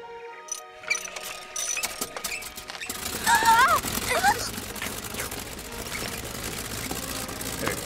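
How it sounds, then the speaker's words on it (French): A cartoon horse-dung vacuum cleaner invention starts up after a few scattered clicks, then runs with a continuous mechanical rattling and whirring, punctuated by squeaky sound effects. "ma dernière invention, l'aspirateur à crottin"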